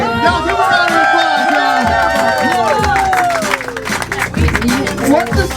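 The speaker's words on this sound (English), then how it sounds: "Y'all give a round of applause." A crowd cheers and claps amid loud, excited voices shouting and talking over one another, with bursts of applause rising and falling in a noisy, lively space.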